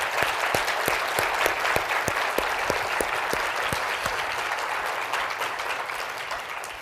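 A room of attendees at a veterans summit claps in a sustained round of applause, with a few sharp, distinct nearby claps standing out over the steady spread of hand claps.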